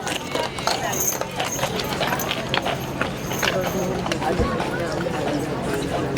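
A Budweiser Clydesdale walks on a park path back to its stable, heavy hooves clip-clopping in an irregular rhythm close by, with crowd murmur and someone talking over it.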